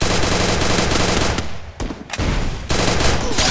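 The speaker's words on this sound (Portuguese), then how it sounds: "Legend vai atirar de novo com lança." Lança gun in Free Fire fires rapid bursts of automatic gunfire, loud and close, with a couple of brief pauses between volleys.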